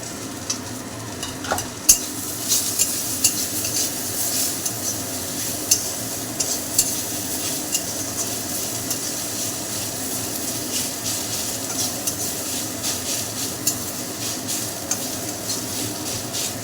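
Boiled drumstick leaves sizzle in a hot pan while a spatula stirs them, giving a steady hiss broken by frequent scraping clicks, close and continuous with no talk.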